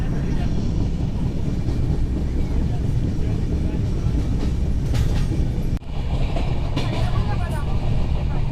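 Sharadha Sethu SF Express passenger train in motion, a steady heavy rumble of wheels on rails with rattling carriages and clickety-clack, loud and continuous from on board.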